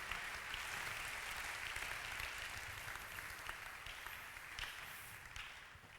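A church congregation applauds during a Sunday service, dense steady clapping from many hands that holds for several seconds before gradually thinning out.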